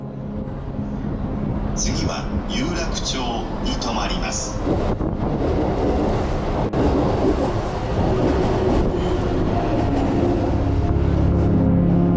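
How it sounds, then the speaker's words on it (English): A train in Tokyo at night rushes past a platform with a loud, steady rumble and rattling wheels, a few high squeals near the start, voices faintly mixed in. "just letting the train whiz by with the city in focus"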